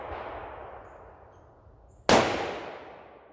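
A single sharp, loud rifle shot from a Howa 1500 firing ELD Match ammunition with a long decaying echo, preceded by the fading tail of an earlier shot at an outdoor range, with no talking.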